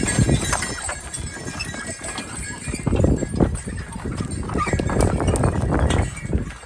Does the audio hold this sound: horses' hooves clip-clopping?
yes